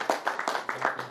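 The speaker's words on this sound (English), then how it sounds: "So a bigger round of applause for each and every one of them," An audience claps at a blood stem cell donor awareness event, a light round of separate, evenly spaced claps from a modest crowd, fairly close and quiet.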